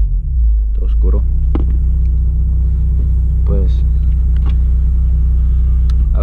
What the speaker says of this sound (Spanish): ahora les voy a enseñar un poco de las revoluciones